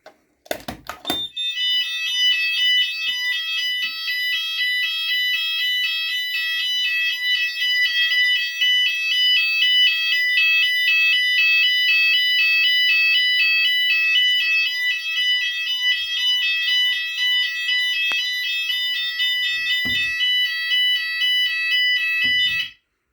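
A Notifier fire alarm sounder blares a loud, continuous electronic tone steadily for about twenty seconds, starting and stopping abruptly, with a click or two near the end.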